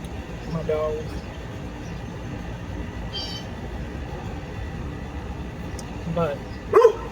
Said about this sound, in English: My dog.